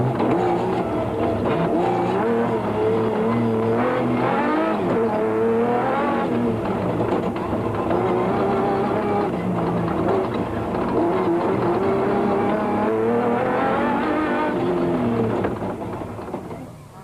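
Off-road race trucks, including a Nissan, a Ford Racing Ranger and a Toyota Land Cruiser, roar through dust in the Tarka 400, their engines revving loudly and continuously, close by, with rising and falling pitch as they accelerate.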